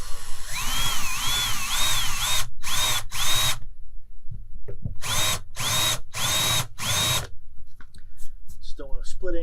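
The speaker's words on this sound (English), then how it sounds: "we're just going to chamfer this a little bit" Power tool chamfering the edge of a doubled piece of plywood for a deck kayak rack, heard as a series of loud, close whirring bursts that start and stop repeatedly, with short pauses between runs.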